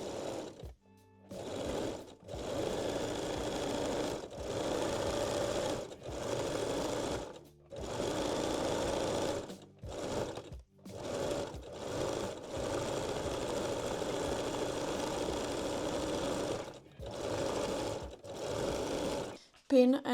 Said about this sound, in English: fold the elastic and stitch the waistline again